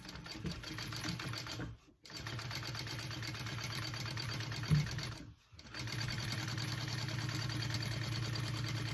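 A sewing machine stitches a tote bag in long, steady runs of rapid, even whirring, stopping briefly twice, then carrying on close and clear with no talk.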